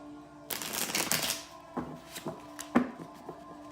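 A Romance Angels Oracle card deck being shuffled: a dense riffling burst followed by several short, sharp flicks and taps, close by, with no talk.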